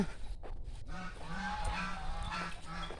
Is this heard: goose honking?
yes